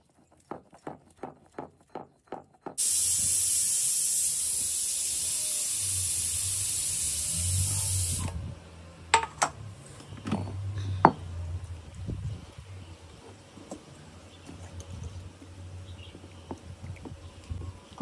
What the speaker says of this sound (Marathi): कुठल्या कुकरची शिट्टी झाली आई?